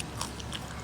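A single crunchy bite into crispy lechon de Las Piñas, roast pig skin, gives a brief close crackle against a quiet background.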